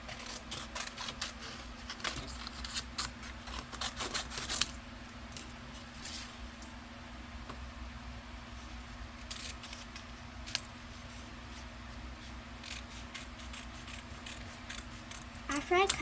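Scissors cutting paper, a series of quiet, irregular snips and rustles over a steady low hum, close but faint, with a brief louder cluster of cuts near the end.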